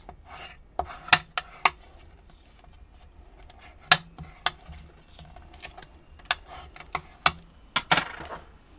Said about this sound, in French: je marque mes plis